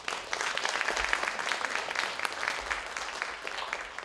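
An audience at an international academic conference on the Donghak Peasant Revolution applauds a speaker, a soft, steady patter of many hands heard from some distance, lasting the whole stretch.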